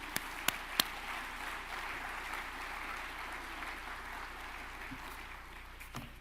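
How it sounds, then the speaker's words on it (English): A convention audience at the 40th Annual Huntington's Disease Society of America gathering gives a warm, steady round of applause. The clapping blends into an even, sustained wash from start to finish, with a few sharper individual claps standing out early on. "So please join me in thanking them with a warm round of applause, please."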